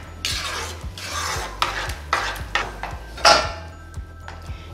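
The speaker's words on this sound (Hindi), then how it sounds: "यहाँ पे मैं स्पैचुला बदल रही हूँ क्योंकि ये बहुत ही आवाज़ कर रहा है।" A spatula scrapes and clacks against a pan while dal and rice are stirred together over a high flame, a run of sharp rhythmic scrapes and taps, close and moderately loud.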